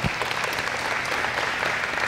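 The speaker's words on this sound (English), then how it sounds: "Thank you for your applause." Audience at a memorial gathering applauding in a hall, steady moderate clapping from many hands heard at some distance, continuous and even with no talking.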